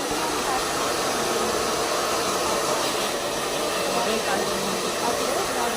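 Hair dryer blowing on hair after a steam treatment, a steady loud whooshing roar that runs unbroken from start to finish.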